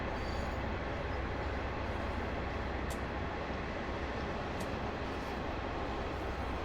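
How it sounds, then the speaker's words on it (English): A Class 150/2 diesel train idles in Train Sim World 2, a steady, low, even drone, with a couple of faint clicks along the way. "The sound of the train idling"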